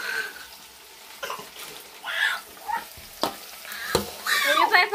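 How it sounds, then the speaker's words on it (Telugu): Chopped onions and green chillies fry in a pan for a chicken curry, with a faint sizzle and intermittent bursts of stirring, close by, while a voice murmurs in places. "ఉల్లిపాయ పచ్చిమిర్చి అనేది బాగా బ్రౌన్ కలర్లో పోయి వచ్చేంత వరకు అయితే ఫ్రై చేసేస్తాము"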